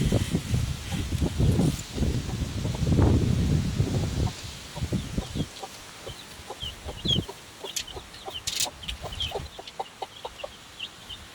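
A mother hen with her chicks clucks softly and repeatedly close by. High chick peeps come through, and gusts of wind rush over the start.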